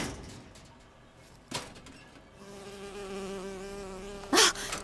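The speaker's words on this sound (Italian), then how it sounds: "È un'ape." In the video game Bioshock Infinite, a bee buzzes with a steady droning hum that rises clearly after a few seconds, set against quiet game ambience with a brief thump and a rustling burst near the end.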